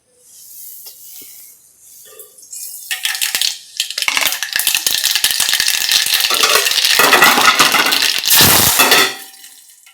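Coconut, green chillies, coriander, a piece of ginger, lemon and a little sugar being ground into chutney in a home kitchen grinder, a loud continuous whirring grind that builds after a quiet start and cuts off near the end.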